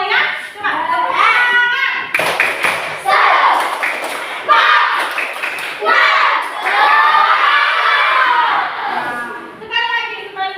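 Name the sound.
children doing a spirit clap (tepuk semangat)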